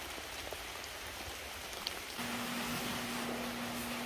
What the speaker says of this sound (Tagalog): Sobrang lakas na yung ulan.